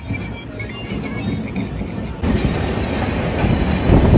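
A passenger train runs along the rails close by, its steady rumbling roar with faint wheel clatter swelling louder partway through and holding strong to the end.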